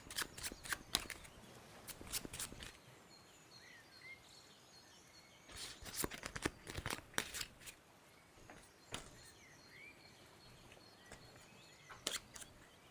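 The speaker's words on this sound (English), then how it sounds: "Gets an extra card, so I have to shuffle" A deck of cards for the board game Tidal Blades is shuffled by hand in quiet bursts of riffling and snapping, several separate rounds close to the microphone with no talk.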